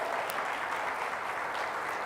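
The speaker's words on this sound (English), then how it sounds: "you can give yourself a round of applause" Audience applause at an intergenerational dialogue event on children's rights and climate justice: a steady, dense wash of clapping from a crowd, even in loudness throughout and moderately distant.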